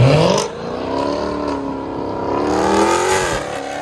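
A Dodge Challenger Hellcat with a 6.2L supercharged HEMI V8 and straight-pipe exhaust pulls away gently, a loud raspy rising drone with gear-change dips, close at first and staying strong.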